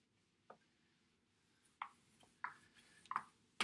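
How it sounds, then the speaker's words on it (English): Several short, faint scrubbing strokes of an eraser wiping writing off a lecture-hall board, spaced irregularly over a few seconds with no talking. "I'm going to have to erase this"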